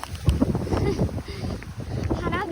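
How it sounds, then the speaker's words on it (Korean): Strong coastal wind buffets the microphone in gusty rumbling bursts at Oedolgae on Jeju's seaside, mixed with people talking close by. "바람이 너무 많이 붑니다."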